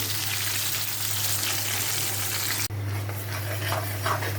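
Onion and garam masala fry in a pan, giving a steady, moderate sizzle with light stirring scrapes over a low electrical hum; the sound briefly cuts out midway, then the frying resumes slightly quieter.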